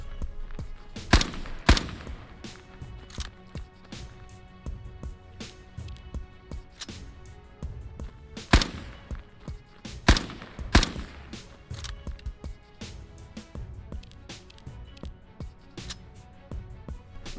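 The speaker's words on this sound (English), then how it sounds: "The German semi-automatic Gewehr." Semi-automatic German Gewehr rifle fired in a video game: sharp, loud individual shots spaced irregularly across the stretch, with quieter reports and game ambience in between.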